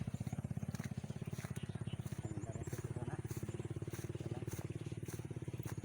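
Motorcycle engine chugging steadily along a muddy rural road in the Philippines, a close, continuous rhythmic putter with some rattling, no talk over it.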